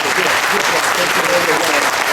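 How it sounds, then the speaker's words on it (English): An indoor audience gives a warm round of applause, loud, dense and steady clapping from many hands filling the whole moment without a break. "Let's give him a warm round of applause."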